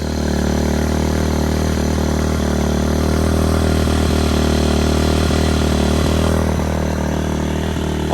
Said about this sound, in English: it sounds like it's idling now